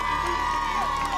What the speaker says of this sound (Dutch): Mag ik een applaus voor Jesse en Akan, de speurders?